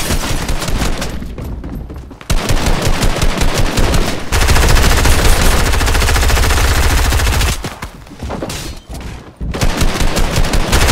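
Sustained automatic fire in a video game arena match, loud and close, with long rapid bursts separated by brief pauses.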